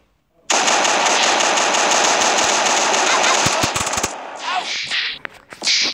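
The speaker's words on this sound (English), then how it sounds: "It is the chain gun. It's automatic, if you want to hear." Rapid automatic chain gun fire from the video game Beat the Boss 2, a loud dense continuous burst lasting several seconds, then breaking into a few scattered shots and short trailing whooshes.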